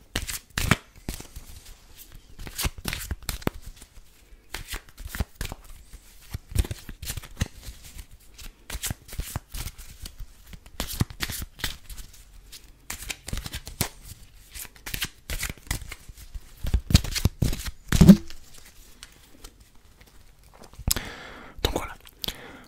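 Playing cards are shuffled close to the mic in repeated crisp riffling bursts and soft slides, with quiet whispered French speech between the shuffles.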